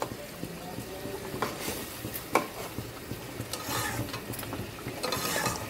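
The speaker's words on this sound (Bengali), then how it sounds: "মাছটা দিয়ে আমি একটু গ্রেভির সাথে নাড়াচাড়া করে নেব।" Bhola fish being stirred into gravy in a pan, soft scraping and stirring noises over a faint sizzle, fairly quiet with occasional sharper clinks.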